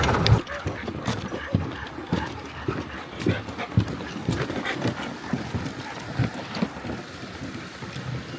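Dogs move along Cache Creek Trail in Grand Teton National Park on an off-leash hike, with steady nearby footfalls, rustling and scattered soft thumps over outdoor ambience.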